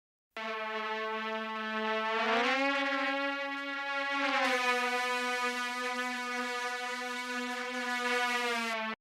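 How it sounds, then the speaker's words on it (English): Five layered, pitch-processed trombones with parallel distortion form one sustained, buzzy brass tone that slides up in pitch near the start and again midway before holding steady, loud and alone. "which is 5 layers of trombone that I recorded really poorly."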